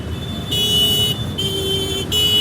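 Loud, sustained vehicle horn blasts repeating in long bursts with short gaps, over the rumble of road traffic on a flooded street in Surat, and no voices.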